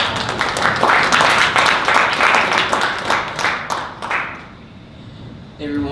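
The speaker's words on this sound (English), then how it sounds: "We'll clap for him too." An audience at a Dallas startup pitch event claps in dense, loud applause for about four seconds before it fades and a voice begins.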